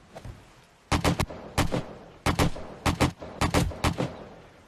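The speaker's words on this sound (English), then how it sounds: "That one shot actually hit his face." Gunfire from the video game 7 Days to Die (Alpha 16, Darkness Falls mod) comes in about six loud, sharp bursts of quick shots, evenly spaced, with brief quiet gaps between them.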